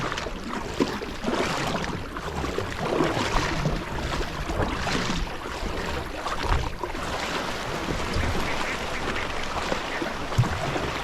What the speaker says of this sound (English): Look at all these birds. They're gonna run on the water.